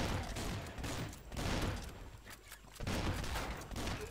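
Rapid gunfire bursts from the Swamp Attack video game as mosquitoes are shot, dense crackling volleys in three loud stretches with short dips between.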